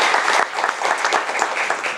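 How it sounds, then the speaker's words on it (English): Sustained loud applause from a conference audience at the opening ceremony of an English language teaching conference at the University of Macau, a dense steady patter of many hands clapping together with no talk over it. "another round of applause for our conference committee"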